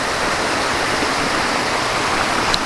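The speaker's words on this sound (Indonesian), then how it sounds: "air terjun Gunung Naga" Steady, dense rush of falling water from the Gunung Naga waterfall near Mount Ratai, Pesawaran, loud and continuous throughout with no voices.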